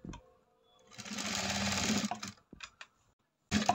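Sewing machine stitching a neck piece onto a blouse: a short whirring burst of needle running, stopping, then faint clicks and another brief start, close and fairly quiet with no talk.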